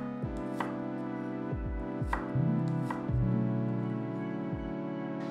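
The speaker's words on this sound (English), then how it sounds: "I will start with onion and I'm going to just slice it." A knife slices through an onion on a cutting board, several sharp, evenly spaced cuts that land close and distinct over a steady background hum, with no voices.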